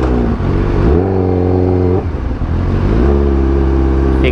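A vehicle's engine drones loudly in road traffic, its revs climbing in stages and dropping briefly between gear changes, close and steady, with no voices.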